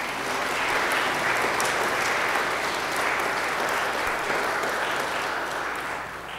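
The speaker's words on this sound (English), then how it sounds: "I invite you to welcome her informally by your applause and praise." A church congregation applauds during a Sunday service, a steady, dense wash of clapping that holds at full strength for several seconds and eases slightly at the end, with no voices over it.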